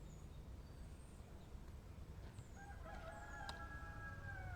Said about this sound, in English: Those are not my roosters.